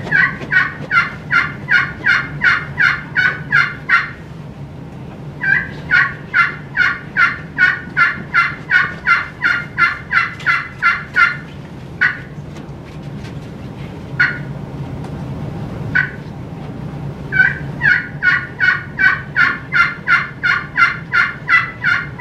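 A hand-operated turkey call imitates the plain yelp of a wild turkey at a state turkey calling competition. The run of loud, evenly spaced yelps breaks off for pauses and single notes and then resumes, clear and alone.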